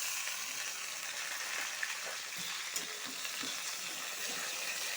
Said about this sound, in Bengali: আলুটার সাথে ঝিঙ্গা টমেটোটা ভেজে নিব